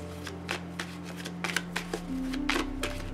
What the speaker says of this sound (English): Just want to make sure I got this all good and shuffled.